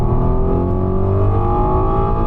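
An Audi TT mk2 with the 3.2 VR6 engine revs hard toward the red line in a short second gear, a loud, close, rising engine note with a sustained harmonic growl and no talking.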